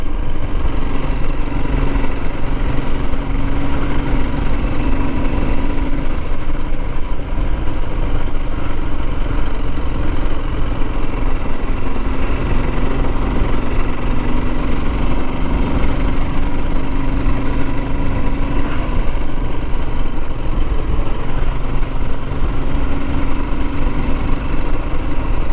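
A Royal Enfield Himalayan motorcycle engine drones steadily and loudly throughout a ride along muddy Cornish green lanes, a continuous close-miked rumble with no pauses or talk.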